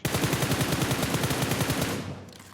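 Sustained automatic gunfire spray from a weapon in PUBG Mobile, a rapid, loud, evenly spaced burst of shots lasting about two seconds before cutting off into a brief fading tail.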